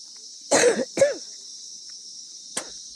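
A person coughs twice in close succession, loud and near, then gives a shorter third cough after a pause, against a quiet background with a steady high insect-like hiss.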